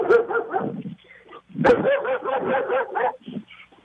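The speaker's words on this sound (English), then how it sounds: "Oh, wow, that's a big dog." A big dog barks out on the street in two rapid bursts of deep, repeated woofs separated by a short pause, close and loud with no talk over it.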